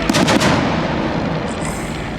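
Anti-aircraft gunfire at a WWI-style dogfight air show: a loud rapid burst of reports up front, then a rolling, fading roar carrying through the rest.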